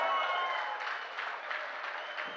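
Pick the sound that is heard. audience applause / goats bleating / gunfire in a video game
audience applause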